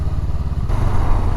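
A Honda Rebel motorcycle rides along with a steady low engine drone and rumble, close and continuous, with some wind noise over it.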